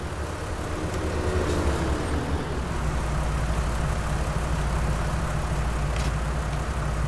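A tractor engine in the farming game Farming Simulator 19 runs continuously with a steady low rumble, loud and close, and no speech over it.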